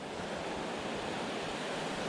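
Ocean surf washing steadily onto the coast along the Juan de Fuca Trail, a continuous broad rushing roar with wind noise, no voices.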